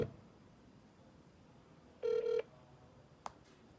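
A single phone ring tone sounds alone, an electronic warble with stacked harmonics lasting under half a second, followed later by a brief faint click, against a quiet room hiss with no talking.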